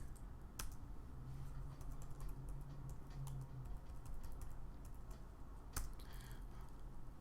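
Computer keyboard typing as HTML code is entered: soft, rapid, irregular key clicks at low level, close by, with no speech.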